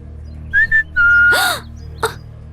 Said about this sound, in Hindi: लड़के लड़कियों को पटाने के लिए सीटी बजाते हैं, उसी तरह मैंने तुम्हारे लिए बजाई।